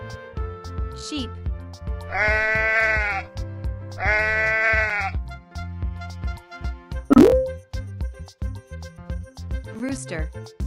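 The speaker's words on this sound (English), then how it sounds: "Sheep." Sheep bleating twice in long wavering calls over bouncy children's music, followed by a short bleat near the end, loud and close.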